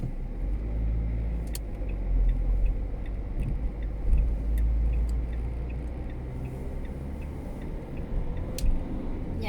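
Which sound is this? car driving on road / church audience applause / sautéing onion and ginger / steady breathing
car driving on road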